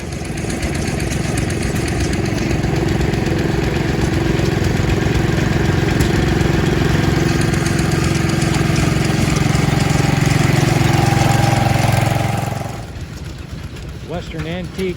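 An antique engine at least 120 years old, with water-recirculating cooling, runs loud and steady nearby for about twelve seconds, then drops away as a voice begins talking.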